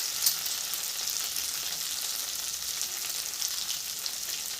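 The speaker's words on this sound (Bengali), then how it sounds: "দিয়ে দিব 1 চামচ কাঁচা লঙ্কা কুচি" Chopped green chillies frying in hot oil with ginger in a pan over medium-low heat, a steady hissing sizzle with faint crackles, continuous and close, with no talking.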